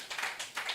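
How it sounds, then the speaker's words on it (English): Applause for Professor Francis Egbokare at a Nigerian economic forum, brief and fairly quiet, with a few soft bursts of clapping rising and falling over less than a second. "Please, a round of applause for him"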